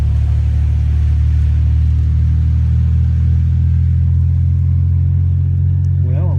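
A car rolls through a small Appalachian community, its engine a loud, steady low rumble heard from inside the cabin, with a faint rising whine near the end.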